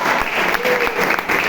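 A Baptist church congregation in Toronto clapping together, a brief burst of dense, steady applause filling the room with a faint voice murmuring underneath.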